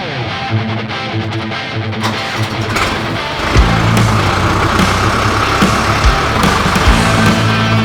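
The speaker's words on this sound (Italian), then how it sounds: "andiamo col trattore" A tractor engine runs steadily close by with a rough, throbbing drone at a vineyard during winemaking, loud and continuous, picking up slightly partway through.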